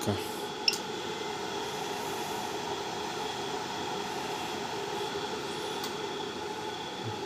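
A blower fan runs continuously with a steady whooshing roar and faint tonal hum, loud and close, with a sharp click near the start.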